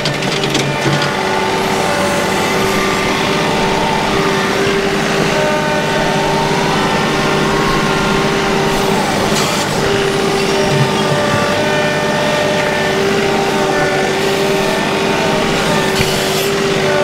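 A HydrosPlus 2R3E loader engine runs steadily at a constant drone while loading a dump truck, loud and continuous with faint mechanical whine and no speech.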